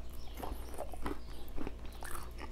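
Bites into crunchy soy garlic Korean fried chicken, a string of crisp crunches and chewing at close range, repeated roughly every half second with no talk.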